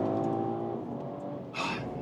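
An all-wheel-drive BMW Alpina B3 GT pulls hard on the throttle, its engine droning steadily and loudly from inside the car, with a brief sharper surge near the end.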